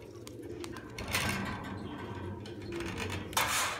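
Soft cooing from an old pigeon in a low, repeated rumble, with scattered fluttering and clatter around it; no one speaks.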